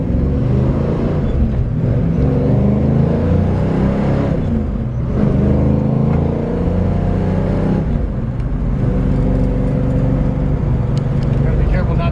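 A 1966 Ford Mustang GT350 clone with a 4-speed manual transmission runs loudly and close, rising and falling in pitch as it revs and shifts through gears while moving.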